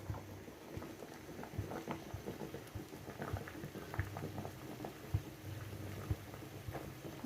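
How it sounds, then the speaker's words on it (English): A pot of potatoes bubbles at a steady boil, with irregular pops and gurgles rising close by and no talking. "the potatoes here are still boiling"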